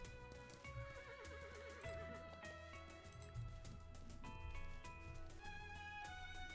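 Horses and foals on a ranch whinny and neigh in repeated rising, wavering calls over a steady background, with a few soft hoof clops, no talking.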